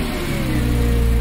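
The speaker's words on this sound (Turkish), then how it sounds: "Hop. Aracımız da çalıştı." A car engine turns over and runs steadily at close range, a loud continuous mid-to-low hum with no talk over it.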